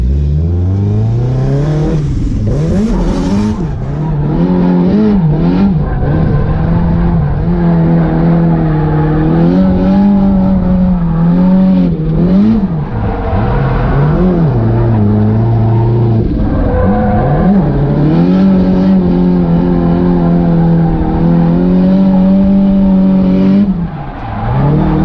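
A drift car revs hard through a nervous run, its engine rising and falling in pitch as it holds angle without spinning out, loud and close throughout with no talk.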